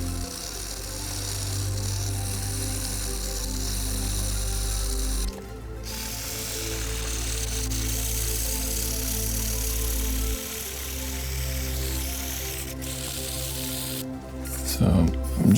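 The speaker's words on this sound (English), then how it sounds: "now we're just going to do a little bit of wet sanding" Wet sanding of a guitar's paint finish with 3000-grit paper makes a steady, close, hissing rasp with a low hum beneath it that shifts in pitch twice, ending in a brief louder scuff.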